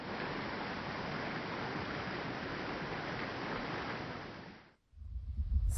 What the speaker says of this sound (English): sound of a waterfall from a height